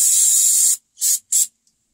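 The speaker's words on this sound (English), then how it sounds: "hose it with a little bit of this carburetor cleaner" Carburetor cleaner sprays onto a Harbor Freight Predator 3500W generator carburetor: one long close hiss, then two short bursts, followed by quiet.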